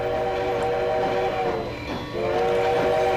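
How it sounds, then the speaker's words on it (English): Model railroad trains running on the Golden Spike layout, with a steady rolling rumble and a sustained multi-tone train whistle that sounds, breaks off briefly, then resumes. "the trains make their final runs for the evening"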